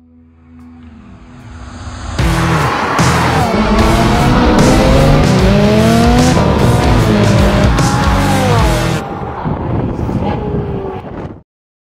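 A Lamborghini 634 twin-turbo V8 hybrid engine revs hard, rising through loud high-pitched sweeps over several seconds with crackling bursts before cutting off.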